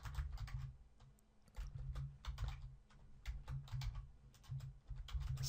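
Rapid keystrokes on a computer keyboard while text is written, clicking in quick irregular bursts with short pauses, close and fairly quiet over a low steady hum, no voices.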